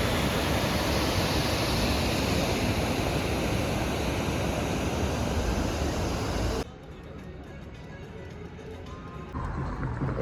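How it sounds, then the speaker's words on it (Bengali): Water rushes hard through the Teesta barrage at Gajoldoba, a loud, steady broadband roar heard up close that drops abruptly to a quieter, more distant wash partway through. "এই যে তোমাদের দেখাই জল কীভাবে আসছে"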